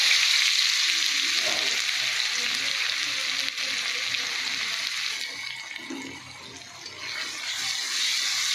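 Cumin seeds and dried red chillies sizzle and crackle steadily in hot oil in a home kitchen pan, a close, continuous frying hiss with a slight dip near the end.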